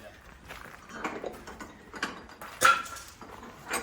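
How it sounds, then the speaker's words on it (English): A ratchet strap being worked in a garage, a series of quick mechanical clicks and ratcheting rasps up close, irregular in rhythm, with one louder snap partway through. "I got another ratchet strap tech tip"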